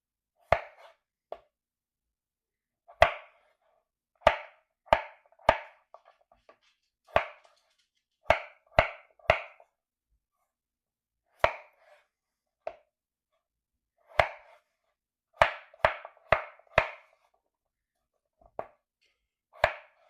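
A knife chopping potatoes into bite-sized chunks for hash browns on a cutting board, sharp isolated knocks coming singly and in quick clusters of two or three at an uneven pace, close and crisp against silence.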